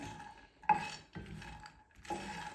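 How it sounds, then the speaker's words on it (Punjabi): Fox nuts (makhana) are stirred as they dry-roast in a pan over low heat: a spoon scrapes and clinks against the metal in three short bursts with pauses between, close and fairly quiet. "ਇਸੇ ਤਰ੍ਹਾਂ ਹਲਾਉਂਦੇ ਹੋਏ ਆਪਾਂ ਮਖਾਣਿਆਂ ਨੂੰ ਚੰਗੀ ਤਰ੍ਹਾਂ ਭੁੰਨ ਲਵਾਂਗੇ"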